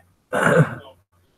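A single short, rough cough or throat-clearing from one person nearby, with a low hum in the background.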